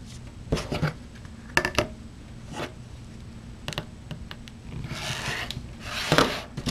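Stacked quilt template pieces trimmed against a ruler, with brief close clicks and scrapes of the blade and paper, quiet shuffling between, and a longer rough rasping cut near the end.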